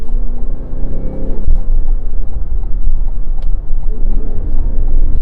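A Cadillac Escalade V-Blackwing's supercharged V8 engine and exhaust drone loudly and steadily from inside the SUV during a drive around town, with a deep rumble, a brief rising whine and a swelling roar near the end.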